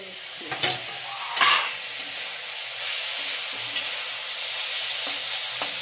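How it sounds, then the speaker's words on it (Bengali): Drumstick flowers with potato and onion stir-fry in a hot pan, a steady broadband sizzle with a few sharper scraping stirs near the start, close and continuous with no voices. "আমি একটু নেড়ে চেড়ে একটু চাপা দিয়ে দিচ্ছি হালকা দিকে ফুলগুলো সিদ্ধ হওয়ার জন্য।"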